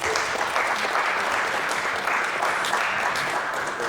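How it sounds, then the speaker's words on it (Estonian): An audience gives a sustained round of applause for the Estonian military orchestra, loud, dense clapping from a large crowd that holds steady for the full few seconds. "Palun aplaus neile."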